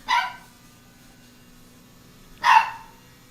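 A dog gives two sharp, separate barks about two seconds apart over a quiet background hum, with no talking in between.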